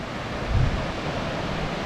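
Ocean surf washing onto a foggy West Coast shore, a steady broad roar of waves with a slightly stronger surge early on, close and fairly loud, with wind buffeting the microphone and no voices.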